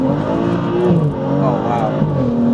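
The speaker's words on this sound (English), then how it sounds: "first gear rip from 20" Tuned stage 2 BMW 435i pulling hard in first gear, a loud, rising engine note that climbs steadily with a brief dip as it shifts, close and continuous with people talking over it.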